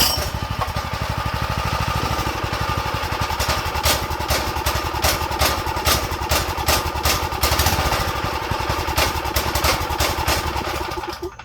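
A small go-kart engine, freshly refuelled, runs steadily inside a shed, its loud, continuous rattling drone holding close and even throughout with a fast rough pulse.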